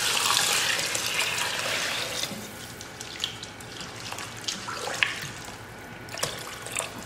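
Water pours into a pot of soaked beans in a home kitchen, a steady splashing stream that gradually softens and thins toward the end.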